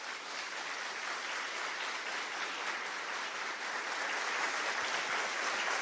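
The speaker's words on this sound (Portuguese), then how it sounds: "Eu queria que você aplaudisse o casamento." A church congregation applauds a marriage, dense steady clapping from a large crowd filling the room, sustained without a break for several seconds.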